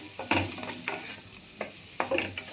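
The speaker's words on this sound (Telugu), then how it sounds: "ఇవన్నీ కలిపేసి ఒక 2 మినిట్స్ వేపుకోవాలి బాగా." A chapati, paneer and noodle mixture with turmeric and garam masala stir-fries in a pan, with scraping stirs at irregular intervals over a soft, steady sizzle, close and moderately quiet.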